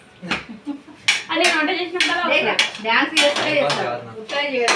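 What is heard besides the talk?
pots and pans clanging while cooking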